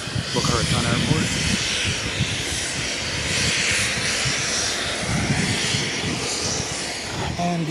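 A fixed-wing airplane engine drones steadily near Boca Raton Airport, a continuous broad roar filling the whole stretch, fairly loud and close, with a voice speaking over it.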